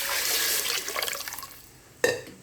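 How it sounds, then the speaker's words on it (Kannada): Water pours into a cooking pot for ghee rice, a splashing stream that tapers off and stops, followed by a sharp metallic clunk near the end. "ನಾನು 3 ಲೋಟ ಅಕ್ಕಿಗೆ ರೈಸಿಗೆ 9 ಕೊಂಡೆ ನೀರನ್ನು ಹಾಕಿದ್ದೀನಿ"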